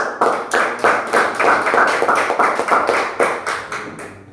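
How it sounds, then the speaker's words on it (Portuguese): A church congregation claps in rhythm during a sermon, steady evenly spaced claps in unison, close and loud, about two per second. "as palmas para Jesus"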